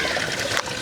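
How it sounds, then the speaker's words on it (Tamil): Water pours into an idli steamer pot set up for cooking a whole chicken in a village kitchen, a brief continuous splashing rush with a faint clunk near the end. "தண்ணி சேர்த்துக்கலாம்"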